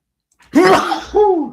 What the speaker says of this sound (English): I think it's time to sneeze again.